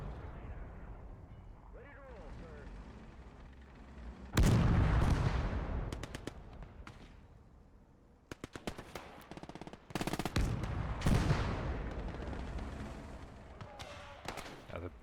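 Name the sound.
machine gun fire in video game Gates of Hell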